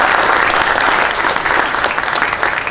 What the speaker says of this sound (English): Jeff, who also is the Pattersonian, give him a round of applause.